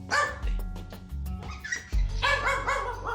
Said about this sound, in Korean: 규 짖지 마.